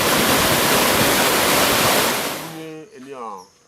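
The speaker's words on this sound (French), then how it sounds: "la cascade la plus importante du Togo" The roar of the largest waterfall in Togo, deep in the forest: a loud, dense, continuous rush that fades out, followed by a short stretch of speech.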